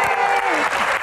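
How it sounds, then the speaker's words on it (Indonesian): A brief burst of audience applause at a stand-up comedy show, dense clapping from a crowd heard close and fairly loud for about a second. "Seru ya, tepuk tangan lagi dong"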